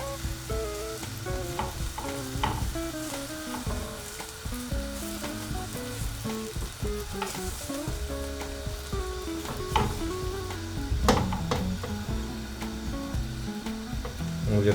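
Steady, close sizzling of a paratha frying in butter on a hot pan, continuous crackle and hiss throughout with light scraping and no talk.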